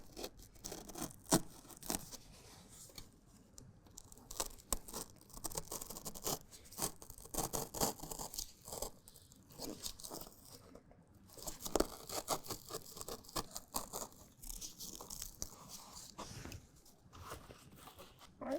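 Quiet, uneven scraping and crinkling as a Husky Liners Guardian Impact truck bed liner for a Chevy Silverado is cut around a marked outline, with irregular rustles and snips in short bursts.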